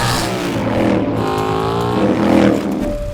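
A loud Indian racing motorcycle engine revs and climbs in pitch, with rising harmonic whine as it accelerates hard on the King of the Baggers race track, steady and close, with no talk.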